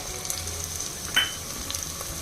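Thinly sliced carrots fry in a pan for vegetable khichdi, giving a steady, even sizzle with a brief clink of a utensil near the middle.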